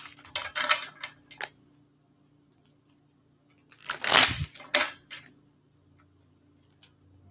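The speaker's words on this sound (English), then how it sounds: "3 more shuffles." Tarot cards being shuffled by hand, with several bursts of riffling and slapping, the loudest cluster in the middle, separated by quiet gaps; close and fairly crisp.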